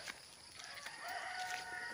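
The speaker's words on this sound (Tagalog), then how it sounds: "Ay, manok oh." Chickens clucking and crowing outdoors along a walking route to a market in Southern Leyte, steady calls mixed with ambient street noise.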